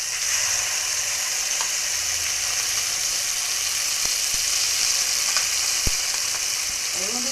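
Masala spices hit hot oil with frying paneer and crackle in a steady, bright sizzle, broken by a few sharp ticks and clicks of a utensil against the pan, with no one speaking.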